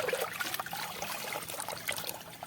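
Shellfish being washed in water, a close, continuous trickling and sloshing with small splashes as they are rinsed.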